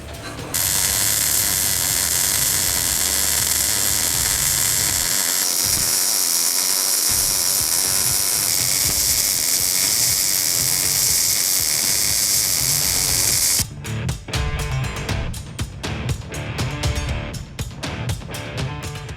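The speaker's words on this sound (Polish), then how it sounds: "Będziemy spawać sobie standardowo blachy trójki. Rozpoczynamy szczepianie." Spartus EasyMIG 217 MIG welder running on 3 mm sheet metal, giving a steady, dense crackling hiss that carries on for many seconds, then breaks into rapid sputtering pulses near the end.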